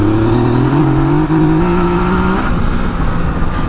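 A 2018 Yamaha Tracer 900 motorcycle engine revs loudly on the throttle, its pitch climbing steadily for a couple of seconds before dropping back to a rougher, lower running note, close and continuous with no talk.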